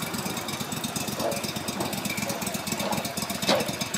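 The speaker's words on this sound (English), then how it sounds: "Yeah, it's a mud boat, all right." A mud boat engine chugs steadily with a rough, rapid knocking rhythm, loud and continuous throughout, at a lake boat ramp.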